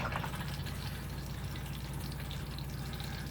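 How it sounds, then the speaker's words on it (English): A motorhome cassette toilet on a 2018 Auto-Trail Tribute flushes, a steady close hiss of water running into the bowl throughout. "That fills the bowl of water."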